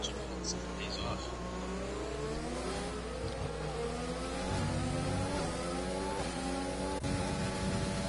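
Several race cars from a racing video game drone and rev steadily, engine pitch rising and falling through gear changes, loud and continuous throughout with only brief dips.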